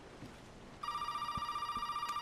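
A telephone rings in the Resident Evil 7 video game, a steady electronic bell tone that starts abruptly and keeps sounding with a fast trill, close and fairly loud, with no talk over it.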